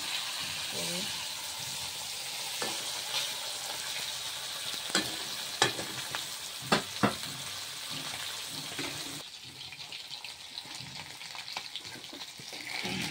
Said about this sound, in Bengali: কাঁকড়া মাছটা ভাজা হয়েছে, নামিয়ে নিচ্ছি।